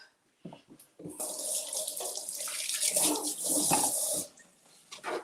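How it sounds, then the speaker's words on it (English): Tap water runs into a sink while hands are washed, a steady close splashing rush lasting about three seconds and then cutting off, with brief handling noises before and after. "Let me wash my hands."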